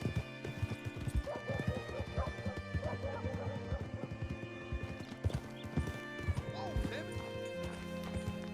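Horse hooves clip-clop steadily through a Red Dead Redemption 2 game scene, a close, regular trotting rhythm with a horse's whinny and background music, while voices talk over it.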